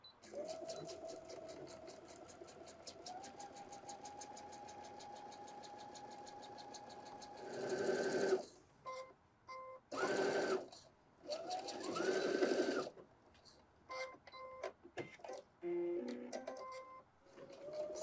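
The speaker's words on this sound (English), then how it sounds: "So I'm going to go ahead and sew down." A sewing machine stitches down a reversible handbag at stitch length 3, running in a long steady whir for about seven seconds, then in several shorter bursts with brief pauses between them.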